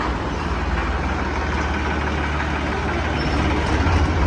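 A tractor engine idles close by on a farm, a continuous heavy low rumble that swells slightly toward the end, with no talk.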